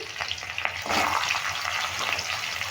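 Chili and whole spices crackle and spit in hot oil in a pan for a papaya and chana dal dish, a steady close sizzle dotted with sharp pops that swells a little louder partway through, with no talking.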